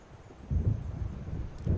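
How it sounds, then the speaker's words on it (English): Low, rolling rumble of thunder from an approaching storm in the Alan Wake video game, soft and distant, swelling briefly twice over a faint windy hiss. "It seems there's a storm coming."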